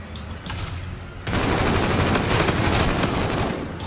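Rapid automatic gunfire bursts loudly in a video game, a dense continuous rattle of shots after a quieter opening second.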